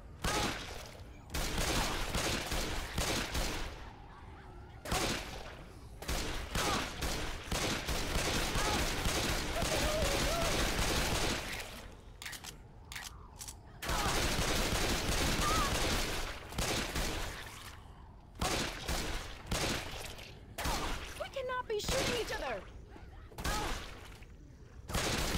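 Rapid bursts of gunfire from a gun, loud and close, firing in repeated volleys with short pauses between them, while a voice talks over parts of the shooting.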